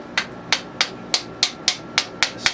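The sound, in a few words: hammer striking transmission assembly parts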